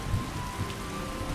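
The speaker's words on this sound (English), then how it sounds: "A light splash sound effect and splash particles play for each footstep when it's raining" Steady rain falls in Skyrim with immersive mods, a continuous soft wash of drops with a faint low rumble underneath, even and unbroken for a brief moment.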